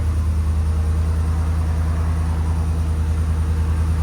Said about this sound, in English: Let it idle till it idles down. So this is at idle.